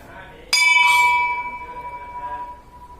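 A single metal temple bell at Karhateshwar temple in Ratnagiri is struck once, close and loud, and its clear tone rings on and slowly fades with a gentle wavering over a few seconds.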